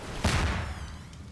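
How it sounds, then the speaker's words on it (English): Booming explosions from a game, a heavy blast rising at once and rumbling on as a low, dense roar that fades slightly. "There's too many explosions going on."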